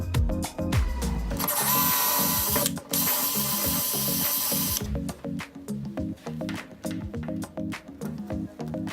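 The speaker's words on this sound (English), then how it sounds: "and I drill somewhere in there." A power drill bores a hole in a wall for an Ikea dresser safety bracket. It whines in short bursts, then runs steadily for about two seconds. Knocks and clicks of handling follow, close and fairly loud.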